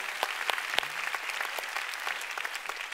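A church congregation claps steadily in praise, a dense run of handclaps filling the room at moderate distance, with no voices over it.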